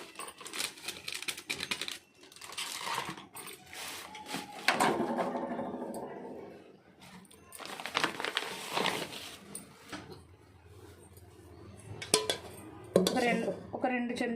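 A spoon clinks and scrapes in a bowl while ground coriander powder, chicken masala and yogurt are stirred together for chicken 65. The tapping and scraping is fairly close, comes in irregular bursts and has short pauses between them.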